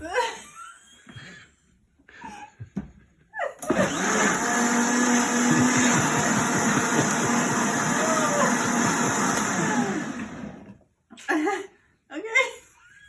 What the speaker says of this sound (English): You don't necessarily have to blend that really to death